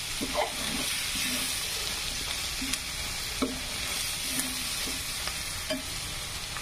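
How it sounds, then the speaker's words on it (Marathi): Onion frying in a pan for a simple vegetable dish, a steady dense sizzle with occasional stirring scrapes and knocks, close and continuous with no talk. "तर कांदा असा छान तळलेला आहे।"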